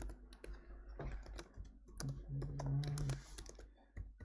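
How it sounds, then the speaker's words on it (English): Quiet clicking of keys on a computer keyboard as someone types, in irregular bursts of taps with brief pauses, soft and close in a hushed room. "I'm just typing in my information."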